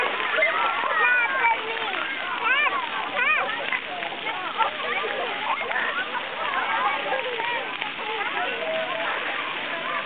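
Water splashing at a water park, a busy stretch of splashes and spray with children's voices and chatter mixed throughout, fairly loud and continuous.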